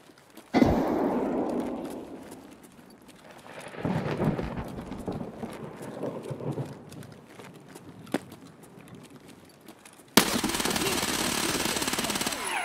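An explosion-like blast in Escape From Tarkov, where a grenade is thrown into a hut: loud rumbling bursts with a deep low thud, then a sudden sharp, dense roar near the end.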